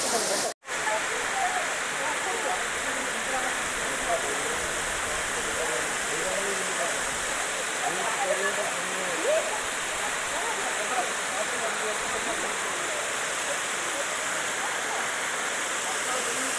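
Gandahati waterfall in Gajapati district, Odisha, roars as a steady, dense rush of falling water that holds constant throughout, broken only by one very brief dropout near the start.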